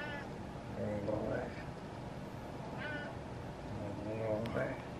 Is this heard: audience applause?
no